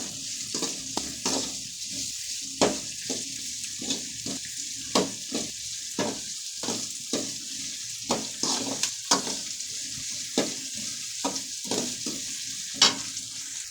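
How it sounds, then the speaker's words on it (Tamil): Onions sautéing in a pan for a fish curry, with a continuous close sizzle broken by frequent rhythmic scraping strokes of a spatula stirring against the pan, fairly loud and without speech. "நல்லா வதக்கலாங்க வெங்காயம்"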